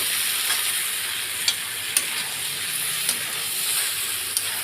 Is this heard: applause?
no